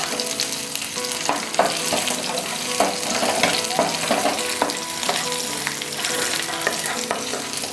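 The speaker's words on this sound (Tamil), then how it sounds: "இதையும் நல்லா வணக்கிடலாம்." Onions and tamarind sauté in a frying pan for appalam chutney, giving a constant close sizzle broken by the scrape and clatter of stirring.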